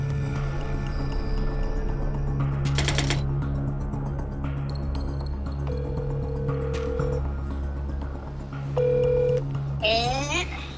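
Telephone dialing tones at a former gosiwon building under renovation: a few short steady beeps stand out over a constant hum and low background noise, with brief clicks and rustling near the end.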